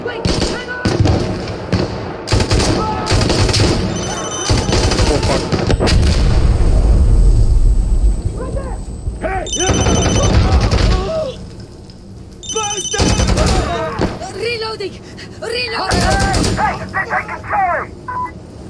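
Gunfire in the tactical shooter game Insurgency crackles in loud bursts and scattered shots across a busy firefight, with several voices shouting over the shooting.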